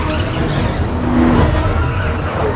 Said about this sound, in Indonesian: Di awal film memperlihatkan anggota polisi yang sedang mengejar satu mobil mafia.